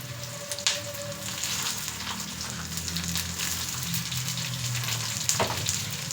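A spoonful of cumin seeds fries in hot oil for hotel-style mint rice, giving a close, continuous sizzle with light crackles and occasional louder pops, and no voices over it.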